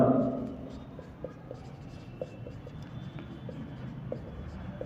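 Chalk or marker taps and scratches faintly on a board as an equation is written, a sparse series of light clicks and strokes over a quiet room.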